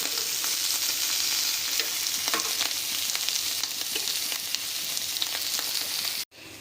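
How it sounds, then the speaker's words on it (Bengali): Small whole chela fish fry in oil on a tawa with a steady, crackling sizzle and occasional stirring scrapes, close by and without talk, before a sudden brief cut near the end. "মাছগুলোকে আমরা এইভাবেই পুরো মাছগুলোকে ভাজা করে নিচ্ছি খুব ভালোভাবে লাল লাল করে"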